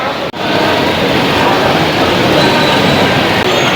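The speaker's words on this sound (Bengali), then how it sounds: "এই ট্রেনটা বলছে শেওড়াফুলি যাবে, তো আমরা এটাতেই উঠে যাবো।" A suburban train at a Howrah station platform, bound for Sheoraphuli, gives a loud, steady rumbling roar close by that runs without a break for the whole stretch.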